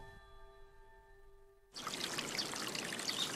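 Water flowing in a channel through a Japanese village, a steady rushing stream that starts abruptly after a quiet, humming lead-in and continues at moderate level.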